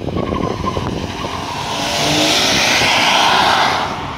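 A car engine roars loudly up close as its tires skid and squeal, a dense rising whine swelling and holding near the end.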